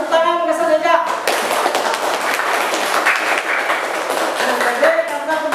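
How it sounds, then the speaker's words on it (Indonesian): A classroom group claps together in a quick burst of hand clapping that fills the room, following a brief spoken line at the start. "Tepuk tangan kasih Eja."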